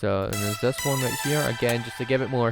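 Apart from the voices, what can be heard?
No everyday noises stand out.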